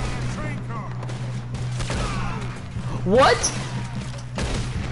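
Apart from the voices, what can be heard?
gunfire in video game Red Dead Redemption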